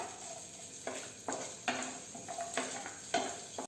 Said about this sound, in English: ginger is getting tossed